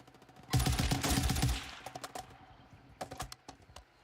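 Rapid automatic gunfire in a video game rattles loudly in a sustained burst, then breaks into scattered single shots and short volleys that grow more distant and sparse.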